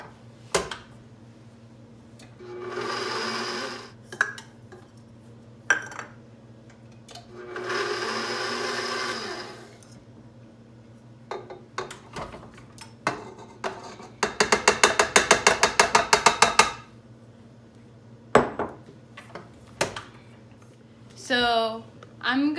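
A mixer works bread dough of flour, salt and yeast in several separate bursts of churning and clattering, with pauses between them and a person talking now and then.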